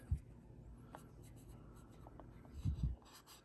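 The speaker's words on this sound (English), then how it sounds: "So continue to burnish this real good." Bare metal foil being burnished under heavy pressure, heard as a faint, steady scratchy rubbing with a few low thumps of the tool against the model surface, including a firmer cluster near the end.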